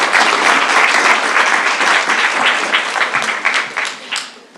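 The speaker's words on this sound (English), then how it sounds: "give them a round of applause" Audience applause fills a convocation hall, dense and sustained clapping from a large crowd that stays loud before easing slightly toward the end.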